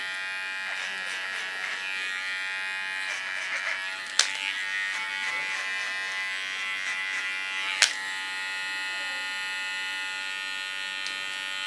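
An electric clipper buzzes steadily and close while shaving hair ultra short during a haircut, with a couple of sharp clicks breaking the continuous whine.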